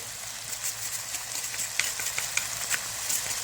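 Chopped tomato with peppers and vegetables sizzling and frying in a pan while being stirred, a steady close sizzle with scattered scraping stir sounds and no speech.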